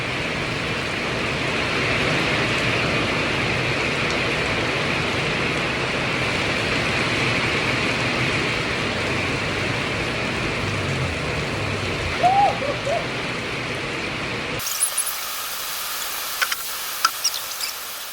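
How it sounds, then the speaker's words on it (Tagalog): Heavy rain pours steadily in a dense, loud hiss over an outdoor pond built for trapping crayfish, then cuts off abruptly near the end, leaving only a few scattered faint knocks. "dahil sobrang lakas na nga mga kaibigan ng ulan dito"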